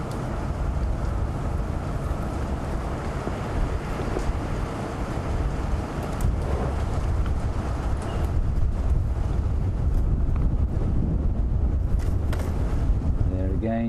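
Wind blows across an open safari vehicle in the African bush at sunset, a steady loud rumbling buffet against the microphone throughout, with a voice speaking over it.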